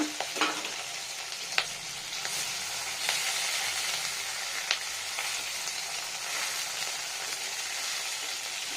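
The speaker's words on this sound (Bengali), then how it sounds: "বাকি মশলা এর উপরে ঢেলে দেবো দেখি কেমন হচ্ছে উল্টো করতে হবে না" Chhana paturi wrapped in pumpkin leaves and topped with masala fries in a frying pan, giving a steady soft sizzle with a few sharp crackles and pops.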